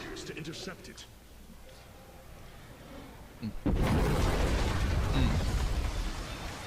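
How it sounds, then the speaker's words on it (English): Explosions in StarCraft 2: Legacy of the Void rumble in a heavy, sustained roar of blasts after a quieter stretch, loud and dense, with a voice talking over the game. "And apocalypse explosion. Explosions!"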